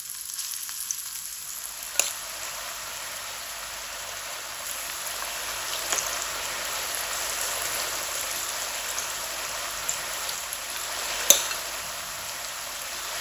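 Leftover roti pieces frying in a pan and being mixed, a soft steady hiss of oil with a few faint taps of the spoon, fairly quiet and without speech.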